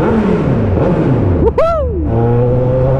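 A Kawasaki Z1000 motorcycle engine idles loudly and steady, then blips in a quick sharp rev that rises and falls before settling back to a rumbling idle, close up.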